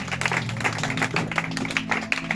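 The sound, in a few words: congregation applauding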